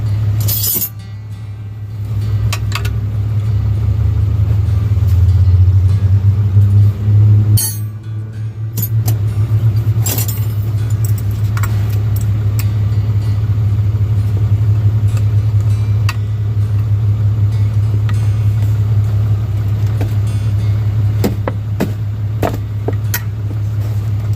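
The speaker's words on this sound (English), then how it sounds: "I'm going to keep the truck running for him" A truck engine idles steadily throughout, a loud, constant low hum running underneath, while intermittent metallic clinks and knocks from work on the steering come and go over it.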